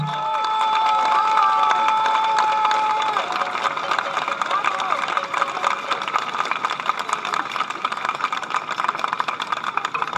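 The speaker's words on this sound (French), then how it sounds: "vous pouvez les applaudir fortement, chaleureusement" A large outdoor crowd at a political rally applauds loudly and continuously, the clapping and cheering filling a long stretch while a whistling tone and shouts ring out over it.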